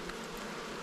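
Honeybees buzzing around production beehives, a steady, dense hum close by, alone without any talk.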